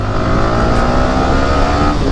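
Yamaha R15M motorcycle engine revving under throttle, a steady, loud, close buzzing drone that holds without pause and carries no talk.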